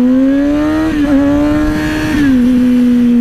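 A motorcycle accelerates hard through the gears, its loud steady engine note rising and dropping briefly at each upshift, close and continuous with heavy wind rush and no talking.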